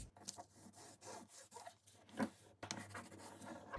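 Paper flaps of a small handmade explosion-style craft booklet are folded and creased by hand. Soft, close rubbing and scraping strokes come in short uneven bursts, quiet and alone.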